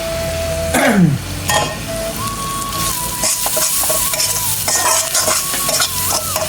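Butter fish curry is stirred in a sizzling pan: a spoon scrapes and clatters against the metal in repeated strokes over a steady frying hiss, close and fairly loud.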